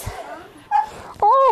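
Dog whimpering in the film Mean Girls, with short high whines near the end as voices talk.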